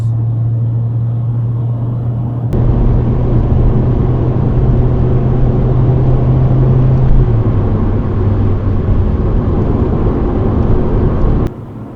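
A car rolls slowly through a McDonald's drive-through at night, a loud, steady low engine rumble and road noise close by that holds for several seconds, with a faint low hum fading partway through.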